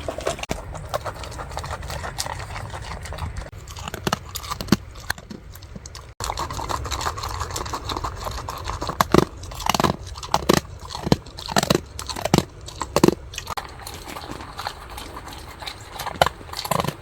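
A large dog chews food at a freezing open-air campsite at night, with repeated close crunching bites and chewing sounds in an irregular rhythm, louder in the second half.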